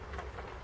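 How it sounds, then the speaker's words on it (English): Heavy rain pours down outside, a steady dense hiss with low rumble, fairly faint and continuous with no voices. "I don't know if you can hear, but it's tipping down outside, rain stops play"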